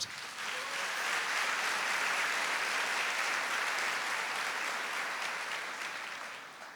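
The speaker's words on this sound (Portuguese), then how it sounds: "Aplauda essa palavra." A congregation applauds during a Catholic sermon, a broad, steady roar of many hands clapping that rises quickly, holds, then slowly tapers off.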